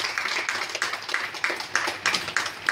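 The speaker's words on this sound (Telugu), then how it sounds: "మనం చప్పట్లు గట్టిగా కొట్టాలి" An audience at a Women's Day celebration claps in a steady, rhythmic beat of loud, evenly spaced handclaps that continue throughout.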